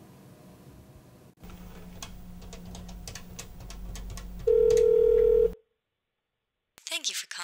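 Phone call being placed: a soft dialing hum and clicks, then a loud steady tone lasting about a second, silence, and a short burst of ringing at the end.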